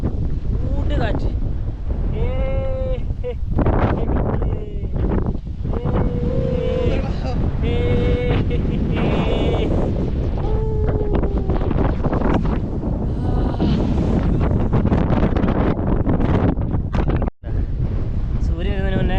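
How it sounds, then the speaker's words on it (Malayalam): Heavy wind roaring across the top of a hill at dawn, loud and constant with gusts, while people talk under it and a few tonal calls or squeaks cut through. "പറഞ്ഞാണല്ലോ കാറ്റുണ്ട് ഇവിടെ, കൂട്ട് കാറ്റ്."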